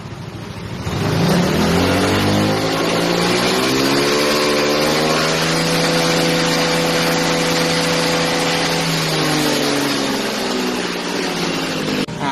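A Yamaha Nmax scooter fitted with a modified clutch bowl, rear wheel lifted off the ground, engine revving up hard and holding a loud, high, steady whine for several seconds before easing slightly, close and alone.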